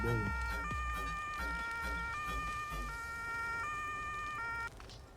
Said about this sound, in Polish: Włączamy syreny.